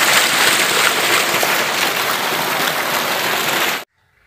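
Water gushes out of a turbine well pipe bored some 600 feet into the ground, a loud, steady rushing roar that cuts off abruptly near the end, leaving faint background sound.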